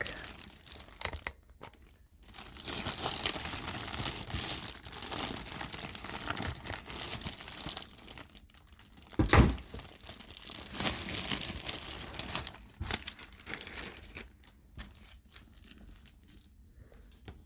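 A Dooney & Bourke handbag eased out of a plastic bag, giving a steady, close crinkling and rustling of plastic for many seconds, with one sharper crunch midway and quieter patches near the end.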